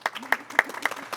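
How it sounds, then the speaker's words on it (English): A small group claps softly and unevenly at a First Friday gathering, a handful of distinct, fairly faint claps spaced through a brief moment. "We'll clap, too."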